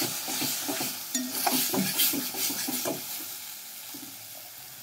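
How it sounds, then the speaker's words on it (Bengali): A spice paste with poppy seed and melon seed paste is stirred in a pan over low to medium heat, giving close spoon scrapes and soft sizzling that ease off toward the end. "আবারও কষিয়ে নেব।"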